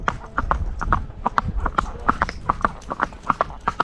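Hooves of horses clip-clop in a steady walking rhythm, close and fairly loud, with faint background noise.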